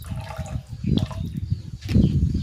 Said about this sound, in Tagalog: Maglalagay din ako ng patis, pampalasa.